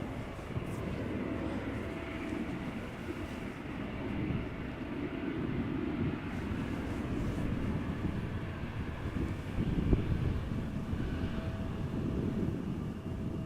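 An Embraer jet taxis to the runway threshold at Amsterdam Schiphol, its engines a low, steady rumble heard from a distance, fairly faint and continuous throughout.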